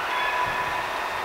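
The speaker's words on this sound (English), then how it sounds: "So there's the Ottawa train coming in at 12:12 a.m. on May 3rd." An Ottawa O-Train pulls in on the Trillium Line with a steady broadband rumble and rail noise, close by and continuous through the moment.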